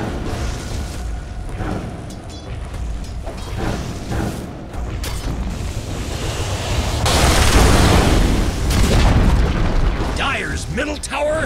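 Dota 2 match with a tower under attack: overlapping battle effects, impacts, booms and spell bursts swell and recede, growing louder and denser toward the later part, with no speech.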